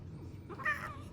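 A house cat lets out a single short meow close by, over a low steady background hum.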